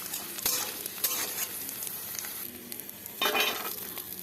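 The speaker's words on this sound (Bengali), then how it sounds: "কড়াইতে চীনাবাদামগুলো ভেজে নেব।" Peanuts fry in a wok, a soft continuous sizzle broken by bursts of scraping and stirring, close and fairly quiet.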